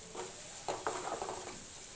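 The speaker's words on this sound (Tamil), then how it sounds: "இப்போ நல்லா இது எல்லாத்தையும் மிக்ஸ் பண்ணிவிட்டு ஒரு 5 மினிட்ஸ் விடுங்க" Vegetables for egg fried rice are stirred in a pan, with a faint sizzle and a few soft scraping and clinking strokes of a spoon, close and without talk.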